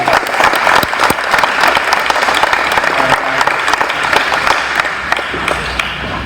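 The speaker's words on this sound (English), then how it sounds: "Let's give these guys one last round of applause." An audience applauds at a school awards ceremony, dense steady clapping throughout with sharp individual claps standing out near the microphone and a few faint voices underneath.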